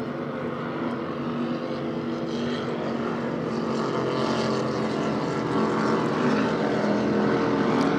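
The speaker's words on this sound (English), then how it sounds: "Tilted Kilt coming by, production 3, that 35-foot Fountain" A 35-foot Fountain racing powerboat in the production class roars past at a superboat grand prix race in New York, a loud continuous engine drone that swells steadily over several seconds with no voices heard.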